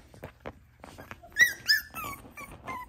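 A young puppy from a litter whimpers and yips in short, high-pitched cries, some soft and some louder, with faint low growls, close by and with no talk.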